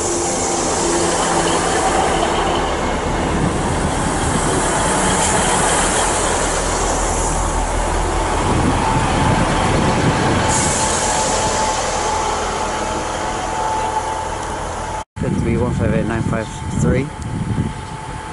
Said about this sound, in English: My favourite locomotive.